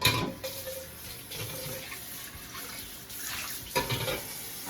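Water runs from a tap and splashes unevenly, with brief bursts as salt fish is rinsed in fresh cold water underneath it; no talking.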